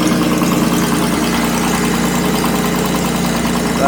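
A Jaguar E-Type engine idles steadily with the choke on, a loud, constant mid-pitched rumble with a faint knocking undertone, running alone with no voices.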